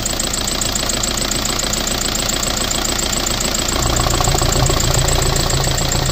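A TDI diesel engine swapped into a Tacoma runs steadily with its oil cap off for a blow-by test, a dense, loud knocking idle that swells slightly louder near the end.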